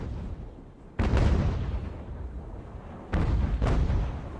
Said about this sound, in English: Give them another broadside when we come around.